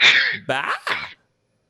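A single sharp, loud sneeze bursts out at close range on a live talk show, followed by a brief spoken word, then silence.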